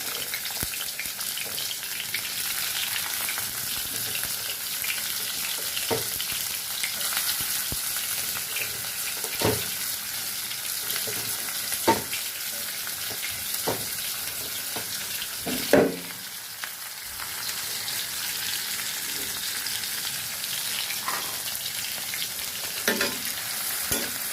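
Onion and chili frying in hot oil for a Bengali hilsa and ridge gourd curry, a long continuous close sizzle with occasional stirring knocks and spatters and no talk.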